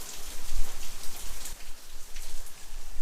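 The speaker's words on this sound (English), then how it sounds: "And it's raining." Steady rain falls on a summer day, a dense continuous patter of drops on surfaces, close and even, with no talk.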